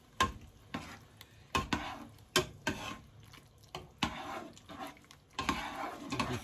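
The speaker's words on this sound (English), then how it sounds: "Just keep stirring it." A spoon scrapes and stirs apple pie filling thickened with cornstarch in a pot, giving repeated close scraping strokes with faint sizzling under them and no talking.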